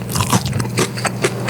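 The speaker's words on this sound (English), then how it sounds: "The breading is perfect, very crunchy." Crunchy breaded chicken katsu is bitten close to the mic, giving a quick series of crisp, crackling crunches that fill the short moment with no talking.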